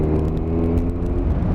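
A car engine in a tunnel revs hard, producing a loud, close, sustained roar with a rich low growl, which the short burst does not let resolve into distinct rises and falls.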